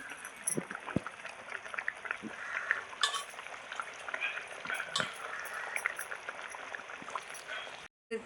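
Fish curry simmering in a pot as fish is added, a soft continuous bubbling and sizzling with occasional stirring clinks and light utensil knocks, close and moderately quiet throughout.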